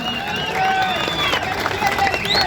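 Audience at an outdoor political rally speech clapping and cheering, a dense burst of applause with crowd noise and whistling tones rising over the babble.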